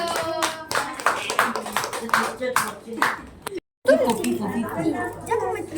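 Students in a classroom clap for group 1, with a brisk run of sharp, close handclaps under chatter. A short silent gap follows, then talk resumes.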